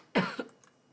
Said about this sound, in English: Sorry about that, started coughing.